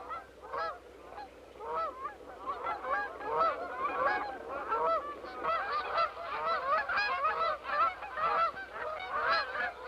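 Canada geese honking in flight during migration, a dense chorus of many overlapping nasal honks in an irregular rhythm, moderately close and continuous throughout with no talking.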